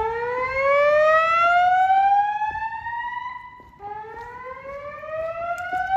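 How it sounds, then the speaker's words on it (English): A building fire alarm sounds during a test of a retrofitted system, giving a loud rising electronic sweep tone that climbs steadily, drops and restarts, heard alone with no voices. "There has been a fire alarm reported in the building."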